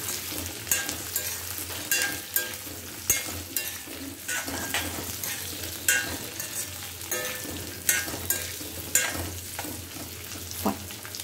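Chopped, semi-boiled potato pieces frying in a pan, a continuous sizzle with frequent scraping and clinking of a spatula stirring at an uneven rhythm, close and fairly quiet.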